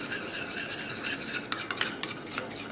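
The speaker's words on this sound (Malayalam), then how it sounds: "നല്ലെണ്ണയും നാരങ്ങയും കൂടെ നല്ലപോലെ മിക്സ് ചെയ്യാം" Sesame oil and lemon juice are stirred together in a small container, quick scraping and light clinking strokes close by with a few sharper taps.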